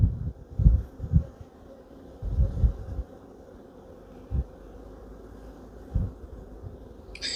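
Bees hum in a low, continuous drone close by, with intermittent thumps and bumps of handling over the buzzing.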